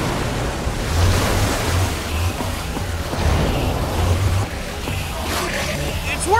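In Minecraft: Story Mode, water released by a machine rushes out in a steady, loud, broad surge like pounding surf, with no one speaking over it.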